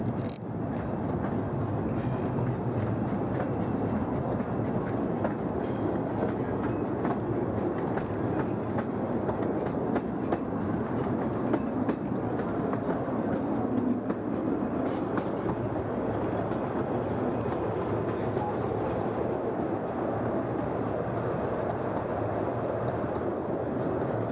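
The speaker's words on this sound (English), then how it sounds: "And now for a trip along the railway, this time behind Alpha." Riding a narrow-gauge train hauled by the locomotive Alpha on the Statfold Barn Railway, a continuous loud rumble of wheels on track with rattling carriage noise and faint clickety-clack.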